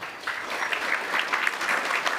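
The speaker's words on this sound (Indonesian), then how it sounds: "Tepuk tangan lu Fadlan." Steady applause from a group of people at an Isra Mi'raj commemoration, continuous clapping filling the whole moment at moderate loudness.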